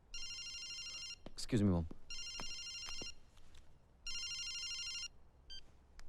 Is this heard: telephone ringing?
yes